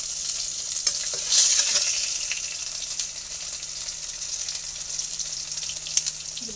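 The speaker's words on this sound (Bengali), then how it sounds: "মাছে ভাজা হয়ে গেছে পাঁচ ফোড়ন দেবো" Five-spice seeds (panch phoron) crackle and hiss in hot oil left from frying fish, a loud close sizzle with occasional pops and light utensil taps.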